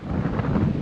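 Strong coastal wind buffets the microphone while fishing in Okinawa, a continuous close rumble with no talking.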